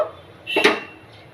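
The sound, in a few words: covering pot of moong dal with lid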